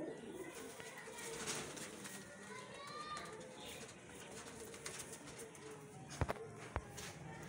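Highflyer pigeons cooing at a seller's loft in Lahore: soft repeated coos and a few calls over a busy background, with voices talking throughout and a couple of sharp knocks near the end.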